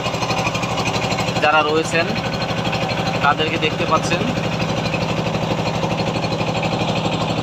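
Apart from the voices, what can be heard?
trawler boat engine running on the Meghna river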